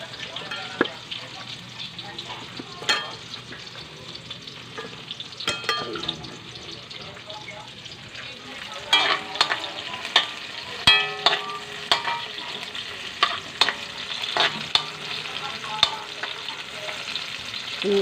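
Pancit canton stir-fried in a pan gives a steady sizzle and frying hiss for the whole stretch, with repeated scraping and clanking of a utensil stirring the noodles, growing busier toward the end.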